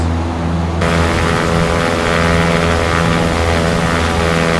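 A Cessna propeller engine in the X-Plane 11 flight simulator drones steadily from the cockpit, its tone abruptly shifting brighter and fuller partway through as the view changes.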